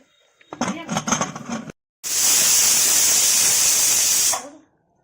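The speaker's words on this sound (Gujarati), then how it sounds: "4 સીટી પડી ગઈ છે" A pressure cooker on a gas stove vents steam in a long, loud, steady hiss lasting a couple of seconds, right after someone speaks briefly.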